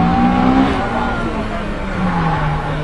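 A Honda Civic EG6 rally car revs close by, its engine note rising and then sliding down in pitch, loud and rasping, with voices talking over it.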